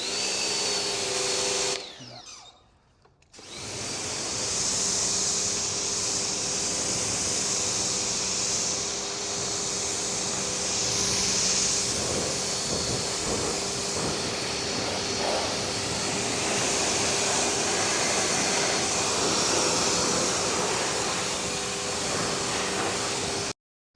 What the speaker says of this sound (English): Right, jet washed it down.